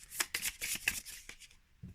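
Mini Divi oracle deck cards shuffled by hand close up, a quick run of papery riffling bursts that stops abruptly, followed by a soft thud.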